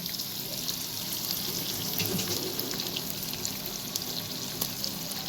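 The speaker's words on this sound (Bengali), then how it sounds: "সবজিগুলো আমার মোটামুটি ভাজা হয়ে গেছে।" Vegetables fry in a pan, giving a continuous dense sizzle with fine crackles and pops. It is steady and close throughout, with no talk.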